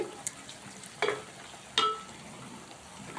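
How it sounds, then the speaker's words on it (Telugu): Bitter gourd slices fry in a pan with a soft, steady sizzle, broken by two or three brief louder scrapes or clinks of stirring. No one speaks. "ఆల్రెడీ కాకరకాయ వేగిపోయింది"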